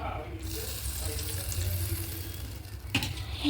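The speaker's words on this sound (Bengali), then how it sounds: "আর একটু জল দেবো" Water pours into a pan of frying vegetables and spices for a prawn curry, a splashing gush over the lingering sizzle, with a sharp clink near the end.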